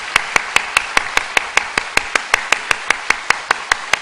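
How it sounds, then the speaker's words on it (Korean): Audience at a welcome for newcomers claps together in a steady, rhythmic beat of sharp, evenly spaced hand claps, about five per second, continuing throughout without speech. "우리 뜨겁게 15초 박수하겠습니다."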